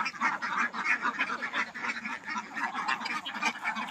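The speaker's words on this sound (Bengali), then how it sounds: "খোলা আকাশের নিচে রাত্রে কিন্তু হাঁসগুলো ছিল" Domestic ducks kept outdoors on a duck farm, quacking continuously at close range as a busy flock, with dense overlapping calls and no talking.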